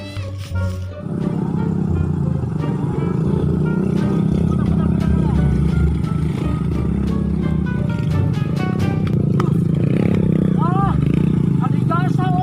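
A motorcycle engine runs with a steady low rumble close by, continuous throughout, while people talk over it.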